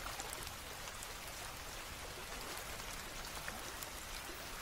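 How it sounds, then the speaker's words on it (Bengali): Light drizzling rain falls steadily around a village footbridge, a soft, even patter of drops spread across the whole sound with no breaks and no voices. "চারপাশে টিপটিপ করে ঝরে পড়ছিল বৃষ্টি।"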